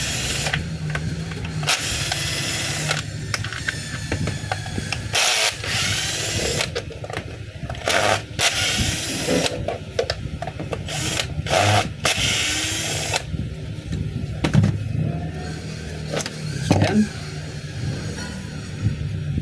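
A DeWalt D25899 10 kg jackhammer running in loud, rapid hammering bursts broken by brief pauses, harsh and close.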